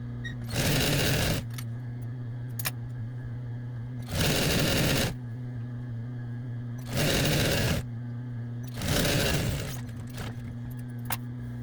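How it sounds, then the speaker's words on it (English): A sewing machine stitches a seam on a Lady Liberty costume in four loud, close bursts of about a second each, separated by quiet pauses with a steady low hum and a few small clicks. "So I'm going to sew this seam all the way down. I'm going to back stitch at both ends"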